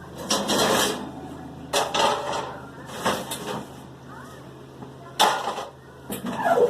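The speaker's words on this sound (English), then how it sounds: "Take everything out of the oven." Pans and dishes are pulled out of a home oven, giving a series of loud metallic clanks, scrapes and knocks in bursts separated by brief pauses, close by.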